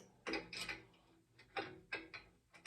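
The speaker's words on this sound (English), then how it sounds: "So we got to put the bearing cups in." Metal bearing cups being drawn into a 1942 Harley-Davidson motorcycle frame with a threaded rod, giving a series of sharp mechanical clicks and ratcheting creaks, about six distinct bursts, close and alone.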